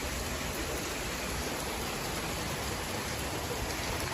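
Hail and rain still falling steadily as a storm eases off in Denver, Colorado, a dense continuous hiss of pellets on surfaces with no talking.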